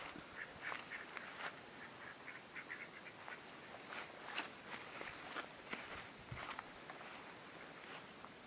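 Ducks quack and honk faintly in the distance beside a snakeskin gourami fish pond, scattered calls over a soft outdoor hiss, with occasional footsteps or rustling nearby.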